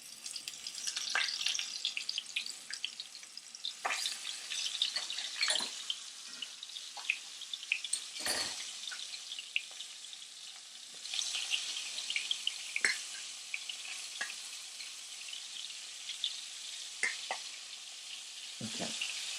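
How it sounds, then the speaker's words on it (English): Cod fillet frying over high heat in a hot pan, a steady close sizzle with scattered sharper crackles and occasional clinks throughout, no voices. "I'm gonna fry it on one side."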